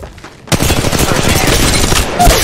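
Rapid, loud bursts of automatic gunfire in Apex Legends Mobile begin abruptly after a brief lull and continue densely with crackling shots to the end.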